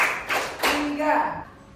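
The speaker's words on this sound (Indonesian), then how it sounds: "tepuk 3." A quick pair of hand claps in a classroom ice-breaking game, close and sharp, followed by a teacher's voice talking.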